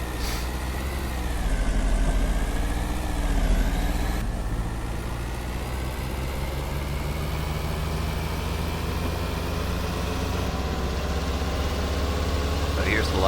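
A car engine idles in a video game, a steady low droning hum with faint tonal whine above it that holds at an even level throughout.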